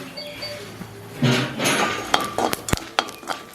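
Dried chillies and other ingredients are dry-roasted in a pan for Tamil sesame seed rice. A spoon scrapes and stirs against the metal close up, giving a few soft rattles and sharp clinks.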